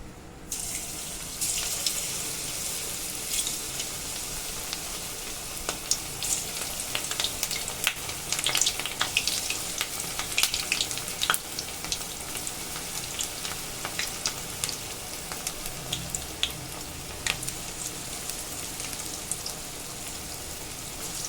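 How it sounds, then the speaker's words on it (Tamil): Cauliflower pieces for cauliflower 65 frying in hot oil in a home kitchen, giving a steady, dense sizzling hiss with crackling spits that runs without pause for the whole stretch, no voices. "எண்ணெய் வந்து சூடாயிருச்சு நம்ம இப்போ காலிஃப்ளவரை நம்ம இதில் போட்டுக்கலாம்"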